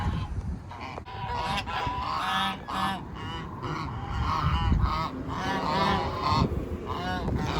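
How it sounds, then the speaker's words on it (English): A flock of geese, ganders, honking loudly and continuously in a park, overlapping calls close by with a busy, raucous rhythm throughout. "They're noisy. These are actually ganders."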